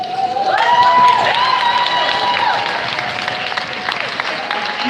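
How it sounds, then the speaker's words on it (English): A crowd at a 2018 summer pinning ceremony applauds the graduating class, loud sustained clapping with cheers and a high whistle-like tone, fading slightly toward the end. "Let's clap it up, let's clap it up."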